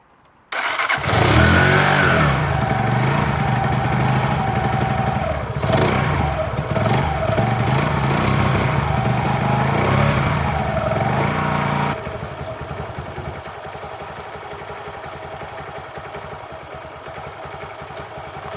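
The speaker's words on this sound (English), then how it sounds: "the first thing to do is to start the engine to warm it up" A motorcycle engine cranks, fires up and settles into a steady idle as it warms before an oil check. It is loud and close at first, then drops to a quieter, even running note partway through.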